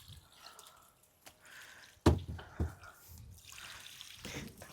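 Water splashes as it is poured at an outdoor working-space construction site, with a sudden loud gush and a second splash in the middle, then softer trickling against quiet background noise.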